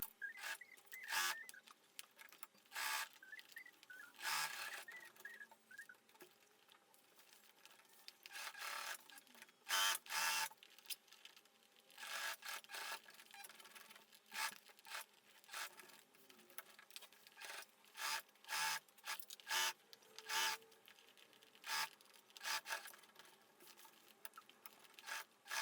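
A sewing machine stitches pockets onto a backpack near the edge, running in short bursts of quiet, fast rattling separated by pauses, with no voices.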